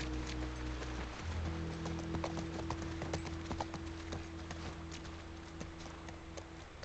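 Horse hooves clip-clop at a steady riding gait while horses are ridden through open country in The Last of Us Part I, a continuous rhythmic trot under a low ambient bed with no talk.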